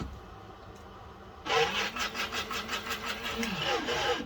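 Coffee grinder starts up and runs for a few seconds after a quiet stretch, a loud, close, gritty whirring grind with a pulsing rhythm as the beans are crushed.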